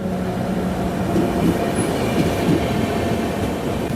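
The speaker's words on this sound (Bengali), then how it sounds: "অ্যানাউন্সমেন্ট হয়ে গেল, ঢুকছে আমাদের ট্রেন" The Kanchankanya Express arrives at a station at night, rumbling steadily nearby with a heavy low roar and faint wheel squeal, rolling continuously without voices.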